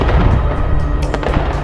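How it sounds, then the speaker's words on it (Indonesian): An explosion blast in an animated story, a loud booming crackle of fireworks-like bursts rolling through continuously, close and dense, with a sharper crack near the end. "sebuah hantaman ledakan di mana-mana"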